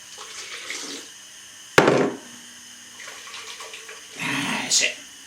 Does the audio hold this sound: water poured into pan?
yes